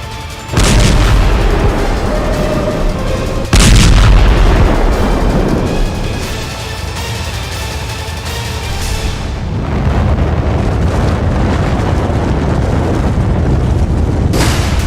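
Missile blasts in a war setting: two loud, heavy booms with rumbling aftermath, followed by a continuous roar of distant explosions and crackling debris that lasts for many seconds.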